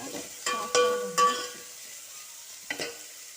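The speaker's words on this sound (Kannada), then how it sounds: "ಈಗ ನಮ್ಮಲ್ಲಿ ಅದೇ ಥರ ಈರುಳ್ಳಿ ಗಟ್ಟಿ ಇರೋದ್ರಿಂದ ಬೇಗ ಸಾಫ್ಟ್ ಆಗೋದು." Hard onions frying in a pan for a Kundapura-style tovve dal, soft sizzle with a few sharp stirring scrapes and clinks of a spoon against the pan.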